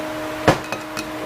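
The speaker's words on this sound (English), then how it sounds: "We're going to pop the seal out." A pump seal is popped out of a 5R55S transmission during repair, heard as one sharp close metallic knock followed by two lighter taps.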